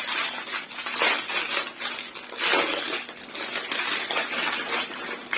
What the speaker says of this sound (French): Désolée pour le bruit de plastique.